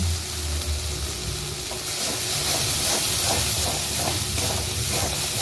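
Steady bubbling and hissing of water at a rolling boil, continuous and fairly loud, with soft popping textures throughout.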